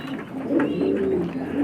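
Hoobal pigeon cooing steadily up close, a low rolling coo repeated with a soft throaty rhythm and no voices over it.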